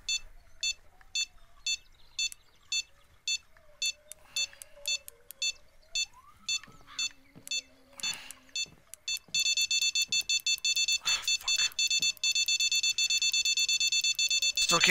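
A fishing rod bite alarm in the fishing game Fishing Planet sounds repeated short electronic beeps, first in steady spaced pulses, then a continuous rapid high beeping, with a person's voice and game sounds underneath.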